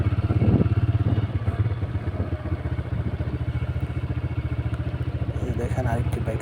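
A motorcycle ridden into a village university campus and parked, its mid-pitched engine running steadily close by with a rhythmic idle pulse and some clatter, while a person talks over it throughout.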